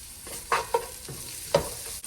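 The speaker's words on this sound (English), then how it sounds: "Now I'm going to add the onions." Onions frying in olive oil for a veggie stew, a soft, close sizzle with a few brief utensil scrapes over a short stretch.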